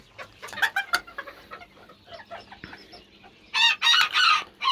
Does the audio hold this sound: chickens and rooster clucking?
yes